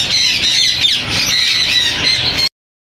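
Green ringneck parrots squawk loudly and continuously at a Sunday bird market in Bahawalpur, close and shrill overlapping calls, cutting off abruptly after about two and a half seconds.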